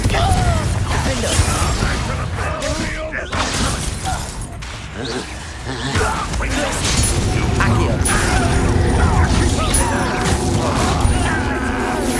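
A Confringo spell blast fires in the Hogwarts Legacy video game, a burst of booming, crackling explosive impacts over a dense, continuous battle din with music and mechanisms, loud throughout the fight.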